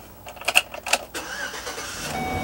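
The 4.8 liter V8 engine of a 2010 Chevrolet Express 2500 cargo van cranks with a few quick chugs, catches, and settles into a low, even idle close by.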